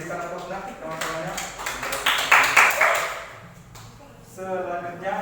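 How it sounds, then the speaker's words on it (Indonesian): Classmates in a school lesson clap for group 2, a brief burst of applause swelling in the middle and fading, with a teacher's voice talking before and after it. "Diberikan aplausnya teman-temannya."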